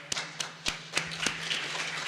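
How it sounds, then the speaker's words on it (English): Sparse, hesitant clapping at the ToorCon 19 security conference, a handful of separate claps at first that thicken into light, scattered applause from a small audience, quiet and somewhat distant. "A big clap for her."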